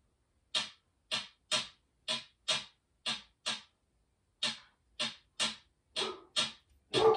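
A hi-hat pattern processed with flanger and delay: a string of sharp, bright ticks in an uneven loping rhythm with a brief gap midway and echoing repeats, turning thicker near the end, with no voices.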